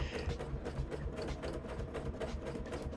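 Domestic sewing machine stitching a quilt along a loop quilting ruler, a steady rapid mechanical whirr with fast needle clatter running continuously and close up, with no voices.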